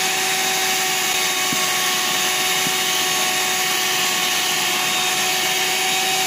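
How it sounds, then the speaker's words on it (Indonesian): Steady electric hand mixer whirring loud and continuous, beating cake batter until it turns white, thick, fluffy and holds a trail, with a constant motor hum and no talk. "Pokoknya mixernya itu sampai warna adonannya itu putih, kental, mengembang dan juga berjejak."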